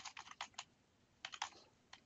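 Quick bursts of keystrokes on a computer keyboard, close and fairly soft, clustered in two short flurries with a brief pause between.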